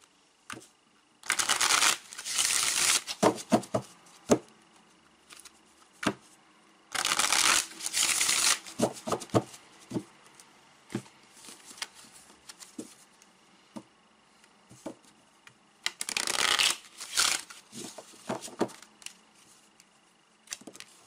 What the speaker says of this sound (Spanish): Vamos a ver un poquito que mezclo cartas.